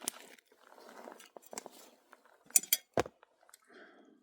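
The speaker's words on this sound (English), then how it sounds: "We'll just give this a good stir." A spoon stirs ramen in a metal camping pot on the Appalachian Trail, giving scattered scrapes and a few sharp metallic clinks, close and fairly quiet, with soft gaps between strokes.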